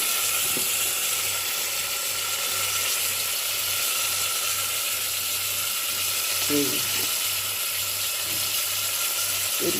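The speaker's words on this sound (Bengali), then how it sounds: "মুগ ডালটা তেলের মধ্যে দিয়ে দেবো।" Washed moong dal sizzling steadily in hot oil for a Bengali lau ghonto made in a pressure cooker, a constant broadband hiss with a faint rhythmic low hum and a brief clatter near the end.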